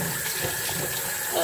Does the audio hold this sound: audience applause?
no